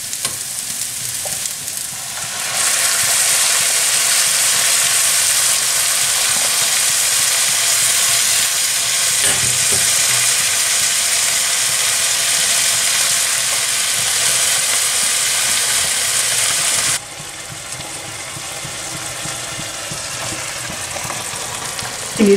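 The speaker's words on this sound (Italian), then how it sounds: "Dopo che abbiamo fatto tostare il riso per bene, aggiungiamo il brodo bollente." Loud, steady sizzling and frying hiss as boiling broth hits toasted risotto rice, rising sharply after a quieter start and easing slightly near the end.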